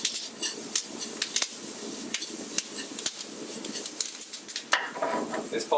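Spring onion and thyme are stirred into risotto in a pan, giving close, irregular scraping and clinks of a utensil against the pan with a soft sizzle beneath.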